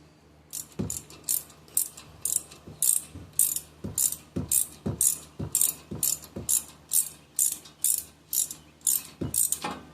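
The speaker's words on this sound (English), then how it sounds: "9mm socket, and we're going to go clockwise" A ratchet turns a 9mm socket clockwise on the rear brake of a 2019-2025 Audi Q3, giving a loud, close, steady series of rhythmic clicking bursts with no voices.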